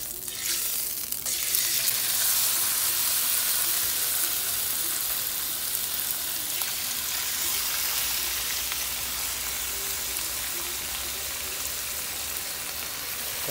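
Food frying in a hot pan, a loud, steady, close sizzle that runs unbroken throughout with no talking.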